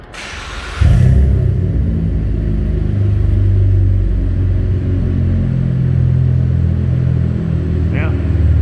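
A 2015 Chevy Impala with its muffler and resonator removed starts up and settles into a deep, steady idle rumble, loud and close, with a person speaking briefly near the end.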